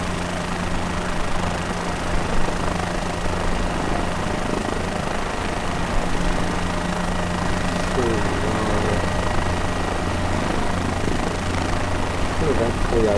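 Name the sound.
helicopter flying, heli tour over Brazil beaches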